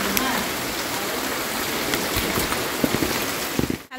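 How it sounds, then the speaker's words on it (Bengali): Heavy rain falls in a steady, dense roar close around, with a few louder splashes near the end. "প্রচন্ড বৃষ্টি হচ্ছে, আমাকে এই বৃষ্টির ভেতরেই বের হতে হচ্ছে"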